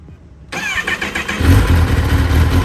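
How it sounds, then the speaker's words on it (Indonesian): A Kawasaki ZX-10R sport motorcycle engine with stock exhaust cranks and catches at about half a second, then settles into a loud, deep warm-up idle whose low rumble swells stronger after a moment. "sekarang langsung aja kita coba panasin mesinnya sama dengerin suaranya ya"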